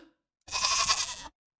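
A single goat bleat, a short bright nasal cry of under a second that starts abruptly and ends cleanly, heard close and alone.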